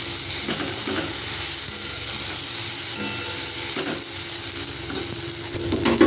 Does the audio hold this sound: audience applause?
no